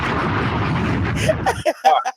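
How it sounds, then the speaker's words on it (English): An explosion sound effect roars as a long, loud, rumbling blast that cuts off abruptly, followed by a few brief voice sounds. "Give me an explosion with that, brother."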